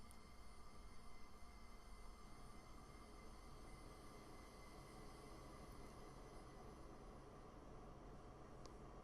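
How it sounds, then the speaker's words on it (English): An Amtrak Superliner passenger train passes close by on a climb, a continuous loud rumble and roar of wheels on rail that holds steady throughout, with faint squeals near the end. "You hear of the train going past?"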